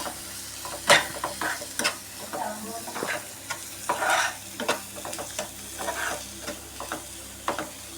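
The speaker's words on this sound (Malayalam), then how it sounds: "അപ്പം നമുക്കിത് നല്ല രീതിക്ക് ഇളക്കി കൊടുക്കാം." A spoon stirs a chili powder mixture in a frying pan, making uneven scraping strokes over a soft, steady sizzle, heard up close.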